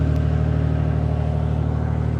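A heavy camper on an RV transport strains in deep mud as its front tires spin, with a steady close engine roar and revving that holds for the whole stretch.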